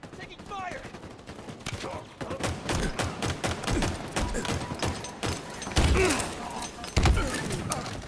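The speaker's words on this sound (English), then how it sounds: "Taking fire." Heavy gunfire from Halo Infinite multiplayer: rapid bursts and dense volleys of shots with thumping impacts and explosions, loud and nearly continuous, rising into sharper blasts near the end.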